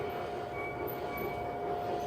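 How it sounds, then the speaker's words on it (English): A yellow M&M train rolls past with a steady, faint rumble and faint wheel hiss from a moderate distance. The sound holds level and continuous, with no voices. "Here it comes. The M&M train."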